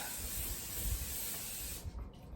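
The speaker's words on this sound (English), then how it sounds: "So I'm going to go ahead and spray the pan." Non-stick cooking spray hisses steadily into a Pullman loaf pan, one continuous close burst that cuts off just before the end.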